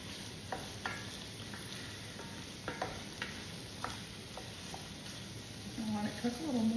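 Sausage and tomato sauce for a carbonara cooking in a pan give a steady, fairly quiet sizzle broken by occasional scraping stirs, with a voice briefly audible near the end.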